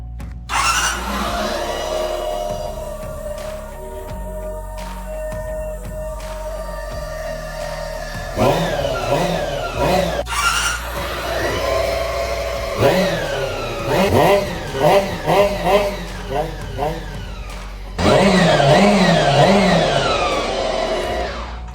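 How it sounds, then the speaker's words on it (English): Restored 1987 Honda CBR250R Hurricane motorcycle engine, a 250 cc four-stroke, heard close up and steady with rising and falling rev blips, mixed with a melodic tonal background. "This is the traditional 1980s Honda series engine, and it really runs smooth like butter."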